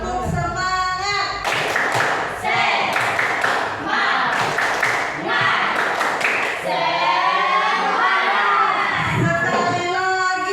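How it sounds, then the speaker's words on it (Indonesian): A biology class performs tepuk semangat, loud rhythmic group clapping in quick patterned bursts mixed with children's shouting and cheering, close and lively, with voices chanting along between the claps. "Kita akan lakukan tepuk semangat lagi, bisa?"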